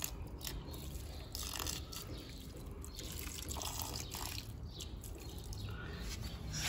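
Water from a watering device sprinkling over succulents and cacti, a faint, continuous patter and hiss of droplets with scattered drips, heard alone without talk.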